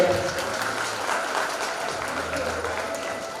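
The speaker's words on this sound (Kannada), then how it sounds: "ಜೋರಾದ ಚಪ್ಪಾಳೆ." An audience at a friendship gathering applauds loudly, a dense, steady wash of clapping that fills the whole moment with voices mixed in.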